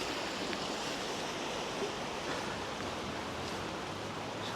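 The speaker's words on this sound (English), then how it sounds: "We can see how fast the water's flowing around it." River water flows steadily past a structure on the Newcastle Quayside on a cold, rainy winter day, a constant broadband rush with no clear pauses.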